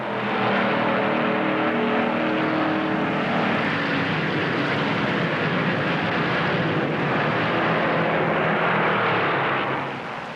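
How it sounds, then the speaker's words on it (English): Stock cars roaring around the high-banked track at the 1958 Southern 500, a loud sustained engine drone swelling and holding for several seconds as cars run at full throttle, with no talk over it. "He stands on the throttle in the high bank groove."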